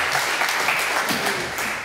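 Audience applause at a history conference, a thick run of clapping from a full room that stays steady for a couple of seconds with a faint voice briefly underneath.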